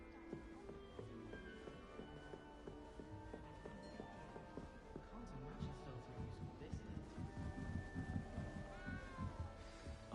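A small cat in Hogwarts Legacy meows repeatedly at close range, the cries mixing with other game sounds and a voice.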